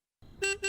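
Car horn honking outside, two short tonal beeps in quick succession, moderately loud after a brief silence.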